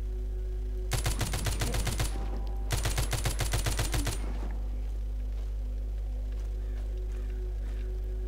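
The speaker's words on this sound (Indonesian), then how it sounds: "kelawarnya kita tembak dulu" Two bursts of rapid gunfire from a shot bat in The Walking Zombie 2, each lasting about a second, loud and close over a low steady hum, with quieter game sounds afterward.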